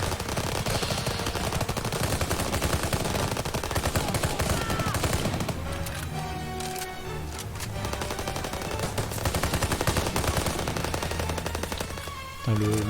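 Dense, rapid automatic gunfire from the World War II shooter Call of Duty WWII fills the whole stretch, loud and continuous bursts layered with battle sounds and game music.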